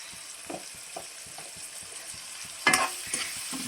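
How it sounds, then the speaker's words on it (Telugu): Chopped tomatoes with salt and turmeric cook in hot oil in a pan for a chicken gongura curry, giving a steady close sizzle. A few soft stirring scrapes come through, with a louder clatter near the end. "ఇవన్నీ ఇలా మగ్గనివ్వాలండి బాగా. ఈ ఆయిల్లో మగ్గిపోవాలి మొత్తం."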